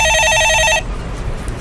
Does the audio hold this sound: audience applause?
no